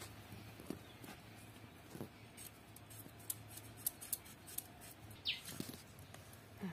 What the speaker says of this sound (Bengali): আমি আলুটাও কেটে নিই।